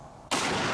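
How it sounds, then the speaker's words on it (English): A .50 caliber rifle blows apart the instant it is fired, replayed in slow motion: near-silence, then a sudden loud blast that swells into a sustained roar. "when I pulled the trigger, the gun exploded almost immediately"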